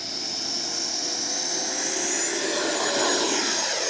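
FMS Avanti S 90mm electric ducted-fan RC jet spooling up for takeoff, a steady high-pitched whine and rushing roar that builds gradually in loudness, heard alone.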